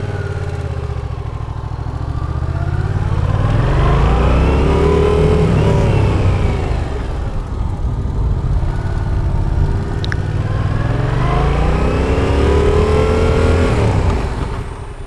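A motorcycle engine runs steadily and rises and falls in pitch as it is revved through maneuvers during a license skills test, loud and close throughout.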